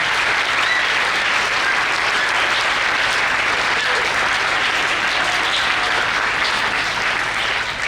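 Sustained applause from a large crowd at a statue blessing and installation ceremony, a dense steady clatter of clapping hands that stays loud and even throughout without letting up.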